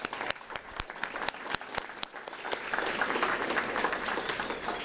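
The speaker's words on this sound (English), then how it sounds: "give all of our division-wide winners and our honorees, both instructional and support, a final round of applause" A school division's awards ceremony audience gives a final round of applause for winners and honorees, steady clapping from a crowd that swells toward the end, with scattered sharper claps standing out.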